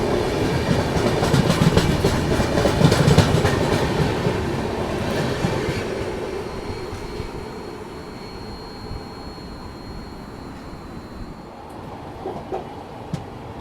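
Avadh Assam Express passenger train runs toward Gorakhpur Junction, a loud rumbling roll with rhythmic wheel clatter that gradually eases and fades to a quieter hum.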